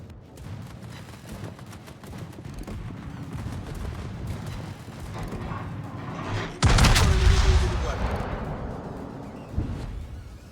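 Battleship main guns in World of Warships fire from inside a smokescreen as one huge, booming broadside with a long rumbling tail, set against steady engine and sea noise.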